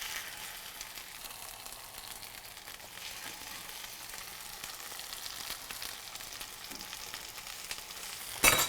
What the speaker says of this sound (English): the pan's hot, I've got some oil in there